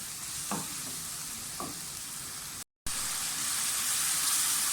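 Okra masala with tomatoes sizzles steadily in hot oil in a pan, with a couple of brief scraping stirs near the start and a dense frying hiss throughout.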